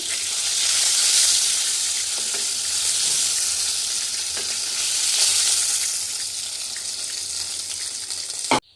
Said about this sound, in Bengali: পটলগুলোও ভাজা হয়ে গেছে, এগুলোও তুলে নিচ্ছি